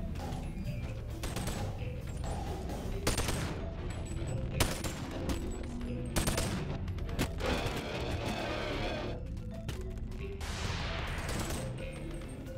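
Sustained gunfire between enemy crewmen in the VR video game Boneworks, a dense, loud fusillade of rapid shots and bursts with crashes, nearly continuous throughout.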